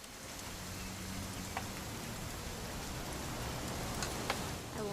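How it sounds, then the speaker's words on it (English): Continuous rain in the game What Remains of Edith Finch, an even, moderately loud patter on surfaces with a few brief sharper ticks, and little else over it. "It's gonna rain the whole weekend,"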